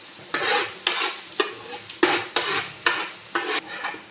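Finely chopped garlic fries in two tablespoons of oil for veg Manchurian, with a steady sizzle broken by about eight rhythmic bursts of spatula stirring and scraping, close and fairly loud.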